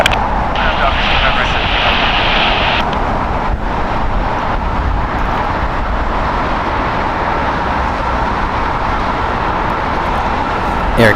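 A Spirit airliner takes off from LAX International Airport, its jet engines a loud, steady roar that holds unbroken throughout, with faint radio chatter underneath.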